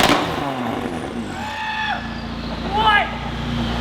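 A McLaren 570S fitted with new downpipes revs loudly nearby in short rising and falling bursts, a raspy engine note heard beneath excited talking.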